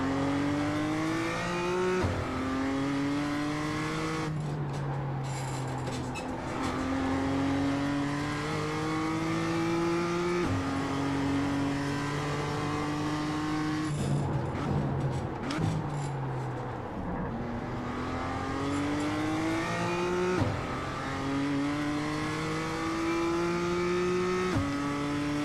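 BMW M2 race car lapping Tsukuba in the iRacing sim, its engine revving loud and close through repeated upshifts and downshifts, rising pitch sweeps broken by gear changes, with a light touch of tire squeal and no talk.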